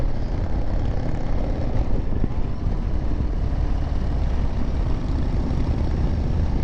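Steady motorcycle exhaust roar during a group ride, a continuous loud broadband drone with wind rush and no clear speech.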